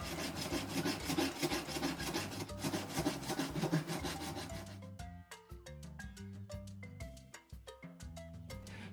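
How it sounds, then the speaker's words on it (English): A hand file rasps soapstone while a turtle is carved, giving steady, close back-and-forth scraping strokes for several seconds, then lighter, scattered strokes over a tonal background. "Keep filing away."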